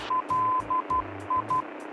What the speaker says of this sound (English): he'll go ahead and confirm the Morse code on the VOR